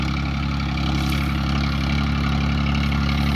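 A tractor engine runs steadily in a field at a normal working pace, a continuous low mechanical drone with a strong even hum and no speech.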